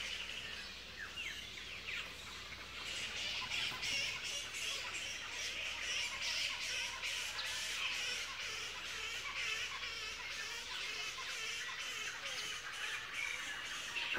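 A colony of roosting bats squawks and chatters without pause, a dense, high-pitched racket of overlapping shrill calls heard from a short distance.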